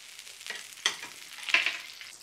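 Potato bread farls frying in butter on a griddle, a soft close sizzle with a few light scrapes and taps, no voices.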